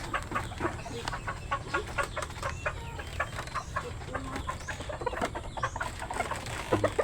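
Farm chickens and roosters cluck in a busy, continuous chorus of short repeated calls at close range, with a louder squawk near the end.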